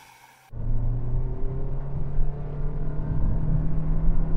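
A Toyota Prius launches hard from a standstill with strong, steady road and drivetrain rumble that swells abruptly after a brief quiet start and keeps building. No one speaks.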